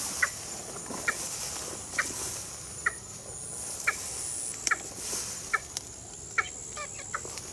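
A water rail calls near a trap set in a grassy field, sharp repeated clucking notes at roughly one-second intervals, fairly close, over a steady outdoor hiss.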